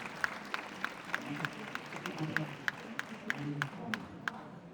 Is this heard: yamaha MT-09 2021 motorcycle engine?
no